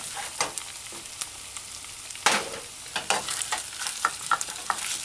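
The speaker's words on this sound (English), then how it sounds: "Add your chopped onions and stir fry." Chopped onions stir-frying on a stove set to medium low, a soft crackling sizzle punctuated by repeated scrapes and clacks of a spatula against the pan.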